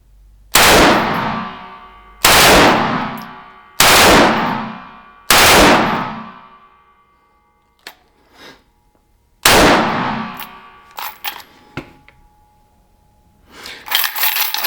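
A SIG 550 rifle fires on full auto in three-round bursts: five loud, sharply decaying reports about a second and a half apart, followed by metallic clinks and rattling handling noises.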